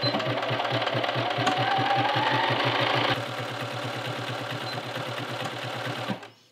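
A sewing machine stitches a Hemlock garment hem, a rapid steady mechanical chatter close up that eases slightly midway and runs continuously for several seconds before stopping.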